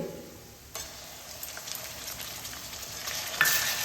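Onion paste dropped into oil with already fried onions: a quiet lull breaks into a rising sizzle and hiss, growing louder near the end with a sharp burst of spatter, close by.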